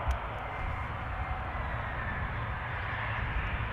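A KLM Embraer 175 airliner arriving from Norwich at Amsterdam Schiphol Airport, its jet engines a steady, broad roar that holds level and fairly loud throughout with no talking.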